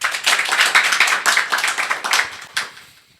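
Clapping from an audience at a Christian gathering comes as a loud, dense burst of many hands, continuing steadily before thinning and fading out near the end, with no talking over it.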